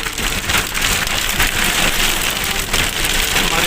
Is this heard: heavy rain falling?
yes